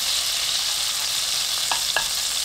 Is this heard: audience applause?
no